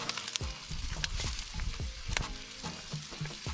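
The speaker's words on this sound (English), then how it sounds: "See the bagel starting to toast the bottom. That's what you want. And then the pastrami is getting hot enough." Pastrami and a bagel sizzle in a pan alongside a frying egg, a busy crackling hiss with frequent pops and small spatters, close and moderately loud.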